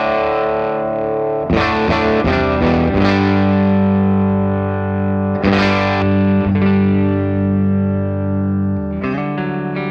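Distorted electric guitar played through a Dr. Z Z-80 amplifier, a tribute to the Vox AC-80, with the treble turned up: sustained chords struck several times with a loud, steady ringing tone and no talking.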